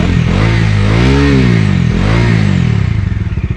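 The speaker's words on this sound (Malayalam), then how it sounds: "വണ്ടി റിവ്യൂ ചെയ്യുമ്പോഴുള്ള സൗണ്ട് ഇതാണ് കേട്ടോ" A Bajaj Dominar 250 motorcycle with a bassy silencer is revved up close, its loud engine note rising and falling in two smooth swells over a steady idle.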